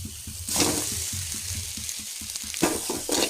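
Boiled Maggi noodles are tossed into a pan of masala and stirred, giving a steady sizzle under rhythmic close scraping and clatter of the spatula.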